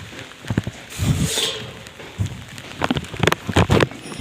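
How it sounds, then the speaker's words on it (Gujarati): Rain falls outdoors in gusty wind, a broad patter with uneven bursts of heavier drops, heard close. "તમે વરસાદનો અવાજ આવતો હશે તમને."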